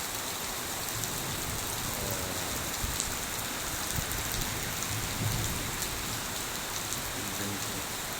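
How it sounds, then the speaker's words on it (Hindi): Heavy pre-monsoon rain pours steadily and densely onto surfaces, a loud continuous wash with no pauses. "झमाझम बारिश हो रही है।"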